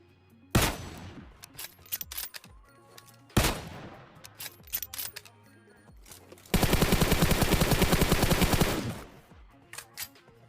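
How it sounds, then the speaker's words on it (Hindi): Gunfire from a Kar98 bolt-action rifle in PUBG Mobile: two sharp, loud single shots with ringing tails a few seconds apart, then a long rapid automatic burst, followed by fainter scattered shots, no speech. "देखना कैसे कार 98 का हेडशॉट बजाएंगे।"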